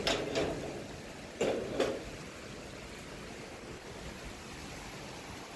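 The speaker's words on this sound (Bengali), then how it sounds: "আজকে সাত সকালবেলায় বৃষ্টি হচ্ছে।" Early-morning rain falls as a steady, soft hiss, with a few louder bursts of splashing near the start and no voices.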